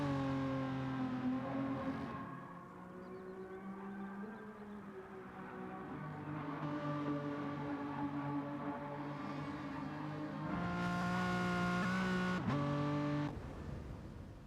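Racing video game engines, including a Honda NSX in a touring car race, whine and rev continuously with steady harmonic tones, rising and shifting through gears, loud and close with no talking.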